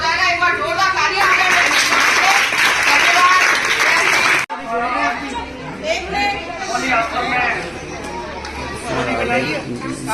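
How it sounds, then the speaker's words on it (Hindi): Crowd clapping at a Holi celebration held with slum-area children in Gwalior, loud sustained applause mixed with chatter and voices, dropping briefly then continuing as a busy hubbub with people talking. "एक बार जोरदार तालियां"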